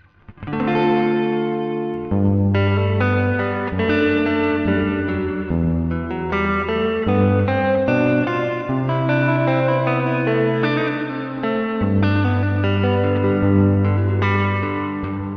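Electric guitar played through the Airwindows Reverb plugin, with its single Big knob set to 100%, after a twin-style amp simulator, gives sustained, richly layered chords and notes that ring continuously, washed in heavy reverb with no talking.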